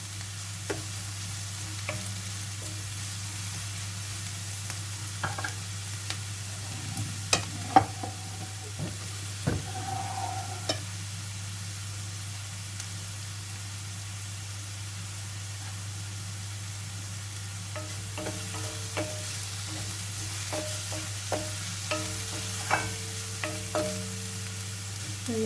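Garlic sizzles gently in a pan as ingredients for a Filipino sautéed bottle gourd with sardines dish cook, with occasional stirring scrapes and clinks over a steady low hum; quiet and continuous, no talking.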